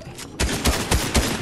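Rapid bursts of Fortnite gunfire crack out several times in quick succession, loud and close, with short gaps between volleys.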